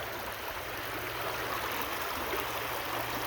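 Creek water rushes steadily through a gold prospecting sluice at Indiana Creek, a continuous broadband wash close by with no pauses or voices.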